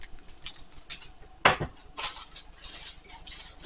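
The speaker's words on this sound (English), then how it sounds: "Cover it with aluminum foil." Aluminum foil being pressed over a baking dish of stuffed zucchini, heard as faint crinkling and handling noise with one sharp clatter of the dish partway through.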